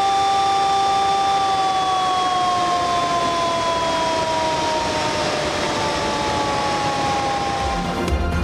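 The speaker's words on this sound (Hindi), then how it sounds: "सायरन बजाकर डैम के अतराफ की आबादी के लिए अलर्ट जारी।" A dam warning siren at Rawal Dam in Islamabad wails continuously, its steady tones sliding slowly downward in pitch, loud and sustained with no pauses, sounding during spillway flooding alerts.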